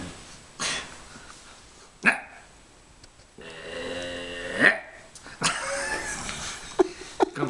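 Dog barking and growling in short, irregular bursts over several seconds, some sharp and close, others rougher, as the dog plays at biting and seizing a toy by the neck.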